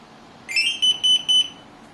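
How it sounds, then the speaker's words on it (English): An openaltimeter electronic altimeter beeps as it reboots while connected to software: one short chirp followed by three crisp, evenly spaced high beeps, close and clear against a quiet background. "so we'll hear its little beep."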